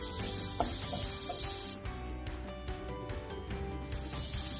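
Carrots and beans sauté in a hot pan, giving a steady, dense sizzle with scraping and stirring throughout, the hiss briefly dipping midway before rising again.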